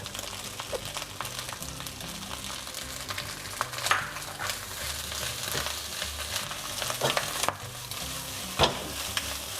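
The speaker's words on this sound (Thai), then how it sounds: "เราก็จะผัด ๆ นะครับให้เขาเข้ากันเล็กน้อยนะครับ" Sticky rice with bacon and tricolor vegetables sizzles in a pan, tossed with repeated scraping and clacking strokes over a constant frying hiss, no speech.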